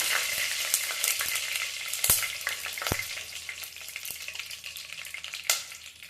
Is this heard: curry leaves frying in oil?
yes